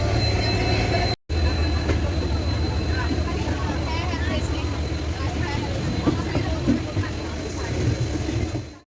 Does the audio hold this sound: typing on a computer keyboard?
no